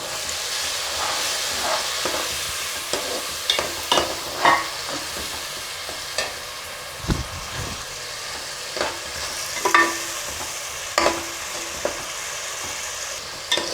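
Onions and blended tomatoes sautéing in a pan for a village-style fish curry, a loud continuous sizzle and hiss with repeated spoon scrapes and knocks at irregular intervals, heard close with no talking.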